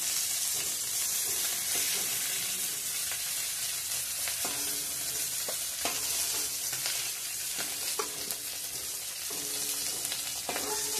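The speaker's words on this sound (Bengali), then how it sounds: "মাছগুলো এখন একটু গরম করে নিচ্ছি বন্ধুরা" Pieces of bata fish heating in a pan, giving a steady, close frying sizzle with occasional soft scrapes and stirring clicks throughout.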